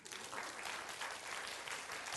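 A lecture audience bursts into steady, dense applause that fills the room at an even loudness for about two seconds, with no talking over it.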